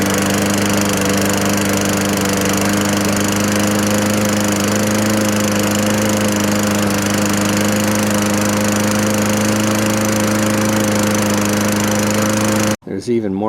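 A Toro Recycler lawn mower engine runs loud and steady at close range with a constant droning hum, then cuts off abruptly near the end.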